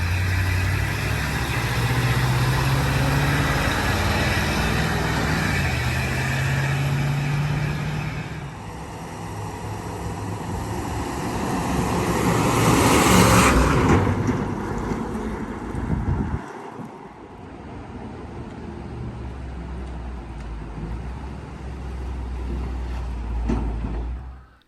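A restored 1972 Ford dump truck engine rumbles and idles up close, fades briefly, then swells as the truck drives past with wind buffeting the microphone, and settles back into a low, steady idle.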